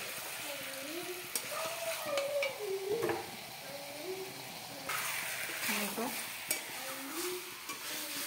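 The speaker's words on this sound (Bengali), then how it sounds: "ভালো করে নাড়িয়ে নিচ্ছে।" Chicken and potatoes frying in a pan, a soft sizzle under repeated stirring scrapes and clinks of a utensil, with a voice speaking intermittently over the cooking.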